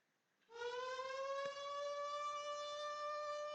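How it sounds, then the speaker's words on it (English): A siren in the Code: Realize video game rises suddenly and holds a loud, steady, rich wailing tone to the end, with no talking. "A siren goes off to signify the start of the mission"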